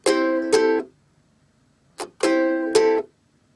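Ukulele strumming pattern for a song, played slowly and close: two ringing chord strums, a pause with a light muted hit, then two more strums that ring and stop.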